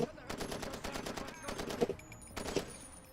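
Video game gunfire from a recoiling gun, a run of quick repeated shots in bursts that come and go, moderately loud, with faint speech mixed underneath.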